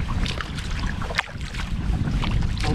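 Strong wind buffets the microphone in a loud, continuous rush with gusty low rumble, outdoors and close at a lake in Algonquin Park, no voices.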